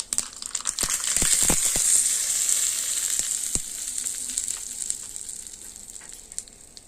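A tadka of mustard seeds and curry leaves sizzles loudly in hot oil, with sharp crackling pops from the seeds at the start that settle into a steady hiss.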